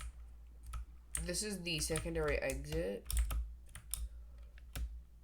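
Crisp, close clacks of a mechanical keyboard in quick irregular bursts while someone speaks briefly over them, keystrokes continuing after he stops.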